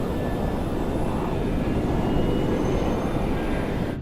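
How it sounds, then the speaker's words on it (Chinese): Airliner cabin during initial climb after takeoff: a dense, steady broadband engine roar and rushing air fill the space evenly, loud and continuous, with no voices. "当你感受到飞机的倾斜，这就是初始爬升状态"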